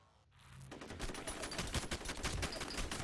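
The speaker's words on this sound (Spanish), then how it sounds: "¡Cósele a balazos!" A film scene carries a fast burst of gunfire, with rapid repeated shots forming a dense, continuous volley. It sounds somewhat distant and muffled at a low level.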